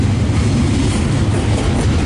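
Freight train 112 rolls past close by with a loud, continuous rumble and a low rolling roar of wheels on track.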